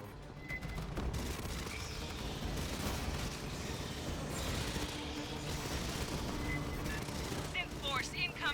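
Sustained heavy gunfire in the sci-fi shooter Aliens: Fireteam Elite, a dense, unbroken stream of shots and blasts all the way through, mixed with game effects and short bursts of voice.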